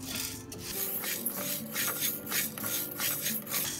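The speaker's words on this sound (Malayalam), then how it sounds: "ഈ 1 ഗ്ലാസ് ഉഴുന്ന് നമുക്ക് വറുത്ത് പൊടിച്ചെടുക്കാം." Urad dal dry-roasting in a pan, stirred so the dry lentils rasp and rustle against the metal in repeated rhythmic sweeps, close and fairly quiet with no talk.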